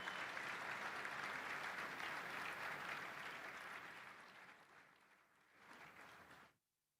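Audience applause at the unveiling of the Lamborghini Urus, dense steady clapping that fills the room before thinning out, a brief renewed swell, then cutting off abruptly.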